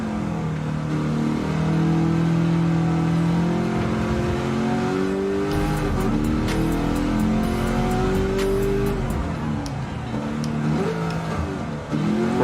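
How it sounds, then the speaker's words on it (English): A racing car engine without mufflers drones and revs steadily, pitch climbing and shifting through gears, loud and close, with a brief tire squeal texture, at Laguna Seca in Gran Turismo 7. "This engine sounds good too, man."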